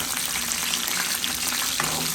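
Curry leaves, green and dried chillies and cumin sizzling in hot oil for rasam, a dense continuous crackle close by with no voices.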